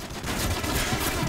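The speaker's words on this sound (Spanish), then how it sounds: "Ah, estoy disparando de lejos otra vez." A quick, continuous burst of automatic gunfire from ranged shooting in Call of Duty: Modern Warfare 3, loud and close, lasting only a moment with no talk.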